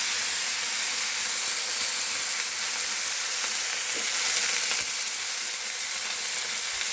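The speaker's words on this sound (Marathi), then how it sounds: "हे का मी शेपूची भाजी टाकली याच्यात" Dill greens frying in a pan with browned garlic, a constant bright sizzling hiss close up with a few faint knocks of stirring, no voices.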